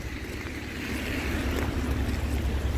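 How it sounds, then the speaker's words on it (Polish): A steady rushing flow of water from a mountain stream in Zakopane fills the scene with constant broadband noise and no voices. "Potok płynie."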